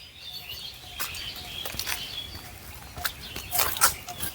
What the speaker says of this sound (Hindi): इसको मैं ऑफ़ कर देता हूँ ताकि आपको भी चिड़िया का आवाज़ सुनाई दे